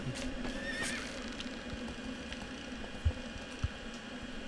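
A horse in Shadow of the Colossus whinnies loudly early on. A couple of heavy hoof thuds come later over a low, steady ambient rumble.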